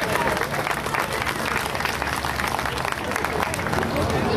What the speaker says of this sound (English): You can clap for yourself now.